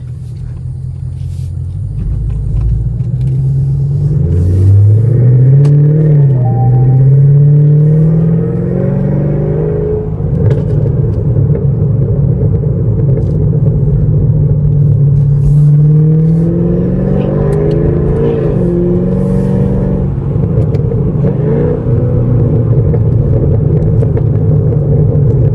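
Straight-piped 2017 Camaro SS rumbling at night from inside the cabin, the V8 exhaust swelling through two throttle pulls with crackling pops and clatter over a constant deep drone, loud and close, no talking.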